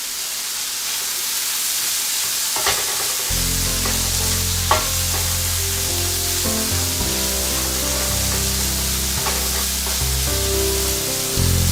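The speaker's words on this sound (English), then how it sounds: "so here we are, sauteing everything" Leftovers sautéing in a pan, a continuous close sizzle with a few sharp scraping clicks of stirring, and a low steady hum running underneath through most of it, no talking.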